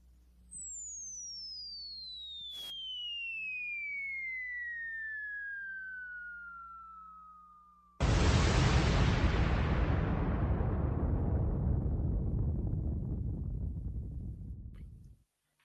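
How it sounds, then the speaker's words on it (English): A bomb drop effect: a long descending whistle glides down over several seconds, then a loud rumbling explosion bursts and slowly decays to silence. "Let's drop a bomb for that."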